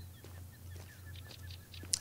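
Geese honk in theHunter: Call of the Wild game, several short nasal honks scattered over a low steady hum, faint and distant, with one sharper call near the end.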